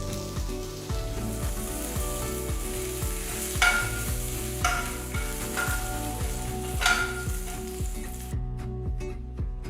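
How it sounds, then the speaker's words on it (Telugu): Mustard seeds, dried chillies and curry leaves sizzle in hot sesame oil for a tempering, a steady close crackle with periodic stirring scrapes and a faint rhythmic background tone. "కొన్ని కరివేపాకులు వేసి వేయించాలి"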